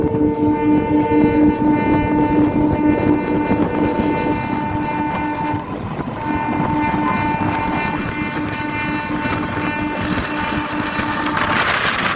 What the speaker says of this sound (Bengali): ট্রেন ছেড়ে দিল যেমনটা বললাম হাওড়ার পনেরো নম্বর প্ল্যাটফর্ম দিয়ে